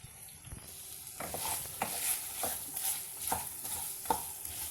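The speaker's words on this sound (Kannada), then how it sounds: "ಇವಾಗ ಒಂದು 5 ನಿಮಿಷ ರೋಸ್ಟ್ ಮಾಡ್ಕೊಳ್ತಾ ಇರಿ" Chicken ghee roast, Mangalore style, frying in a pan while a spoon stirs it, with steady close sizzling and repeated scraping strokes about every half second, no voices.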